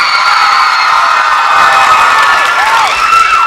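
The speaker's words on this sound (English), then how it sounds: "Clap for Ryan." Audience at a comedy special in the Ricardo Montalban Theater cheers, whoops and claps loudly and continuously, a dense crowd roar with scattered high shouts throughout.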